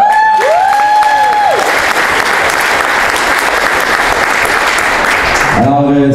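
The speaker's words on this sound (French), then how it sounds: "bonne main d'applaudissement, Jenny" Loud sustained clapping from a cabaret comedy audience, dense and even for several seconds, with a music sting fading out at the start and another swelling in at the end.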